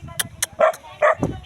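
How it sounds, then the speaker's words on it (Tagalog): Dogs on a farm give a few quick yips and short barks, sharp and close, some small and high-pitched, mixed with a person's voice speaking nearby. "Uy, may mga aso pala dito."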